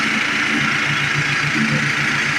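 Engine of a vintage 1972 Simplicity 637 Yeoman riding mower running loudly and steadily with a rough, chugging low throb, heard close by with no talk.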